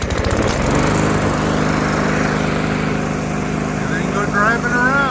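A New Holland Boomer 45 tractor drives a homemade pond edge cutting rig whose engine starts with a rapid sputter and then settles into a steady, loud, close running drone.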